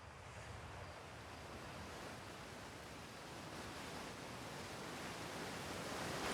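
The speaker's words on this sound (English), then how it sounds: "a lot of water." Water waves in the Outer Wilds space exploration game, a steady soft rush of surf and wind swelling gently over several seconds, quiet and continuous with no talk.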